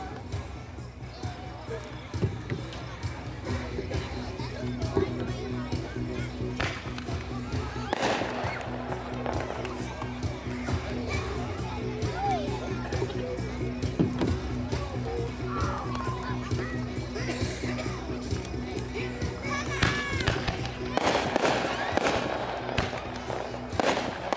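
Artillery shells and festival balls launching at an outdoor fireworks demo, heard as a steady rumble of thumps and crackles with scattered bursts, while people talk and call out nearby throughout.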